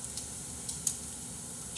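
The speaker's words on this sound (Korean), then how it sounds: "지글지글 보이시죠?" Meat sizzles on a grill, giving a quiet, steady crackle with a few small pops and no talk.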